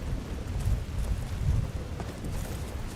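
Steady rain with low, rumbling thunder from Skyrim fills a short stretch evenly, a constant wash with deep rolling swells and no talking.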